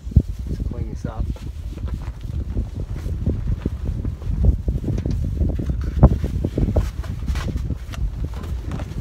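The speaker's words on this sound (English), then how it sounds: "Hopefully the wind's not disturbing the noise too much." Gusty wind buffets the microphone outdoors beside a river during plein air painting, a low rumbling roar under a person talking.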